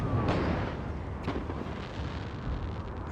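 Artillery fires in the Napoleon: Total War video game, with dull booms over a continuous heavy rumble of battle and no one speaking.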